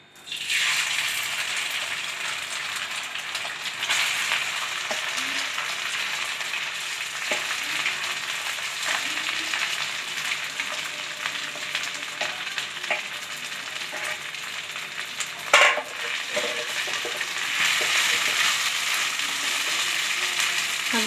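Grated, pre-steamed potato sautéing in homemade ghee over a low flame for potato halwa, giving a continuous dense sizzle with intermittent stirring scrapes and one sharp clatter partway through.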